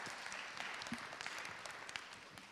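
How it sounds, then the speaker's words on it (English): Audience applause in the room at a venture capital pitch competition in London, a steady wash of clapping at moderate level throughout with no talk over it. "Let's give a round of applause"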